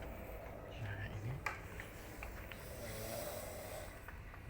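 A person snores softly in a hotel room with two double beds, slow rasping breaths rising and falling at low level, heard alongside quiet whispering.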